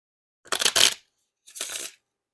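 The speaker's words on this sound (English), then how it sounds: "So you just gotta give it a couple shuffles for it to get more smooth." Two quick riffle shuffles of a deck of Hyper Neon playing cards, each a short dense flutter of snapping card edges, close and fairly loud, separated by a brief pause.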